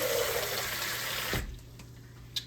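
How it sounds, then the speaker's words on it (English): Water pouring into a crockpot while making navy bean soup, a steady loud rush that cuts off abruptly partway, followed by quieter kitchen sounds and a small clink. "Gonna put some more water in here"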